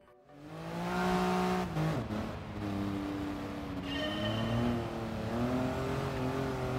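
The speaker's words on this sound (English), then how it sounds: "this thing sounds pretty good, then it's a 3-pot turbo engine" A Toyota GR Yaris with a three-cylinder turbo engine revs hard in the Gran Turismo Sport racing game, a loud buzzy engine note climbing through gears with quick shift dips and renewed pulls.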